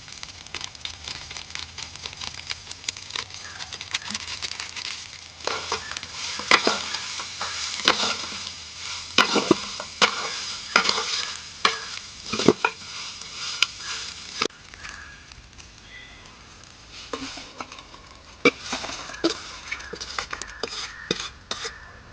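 Chicken uppu kari stir-fried in a pan with pepper, with repeated scraping and clattering of a spatula against the metal over a low sizzle, close, in irregular bursts over a long stretch.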